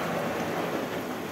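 Steady rain falls in Ongole, a soft even hiss of drops on surfaces, moderately quiet and unbroken throughout the short stretch, with no voices.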